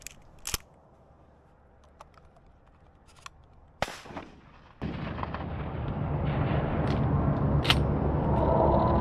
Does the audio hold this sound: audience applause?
no